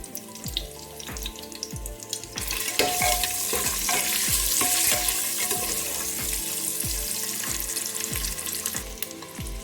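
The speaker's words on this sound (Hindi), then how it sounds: "अब इन एग को हम फ्राई कर लेंगे" Eggs fry in hot oil seasoned with turmeric and Kashmiri red chili powder for an egg biryani, giving a steady close sizzle while a spoon scrapes and stirs the pan in repeated rhythmic strokes, growing louder partway through.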